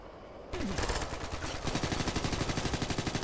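Sustained automatic gunfire in Ghost Recon: Future Soldier, loud and close, kicks in after a quieter start and then hammers on in a rapid, steady rhythm of shots.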